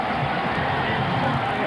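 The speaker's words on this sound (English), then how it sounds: "listen to this crowd get into it" A large crowd at a 1998 Alabama Crimson Tide vs. Mississippi State college football game roars steadily in the stadium. It is a dense, sustained wash of cheering and hubbub with no pauses, heard from within the crowd.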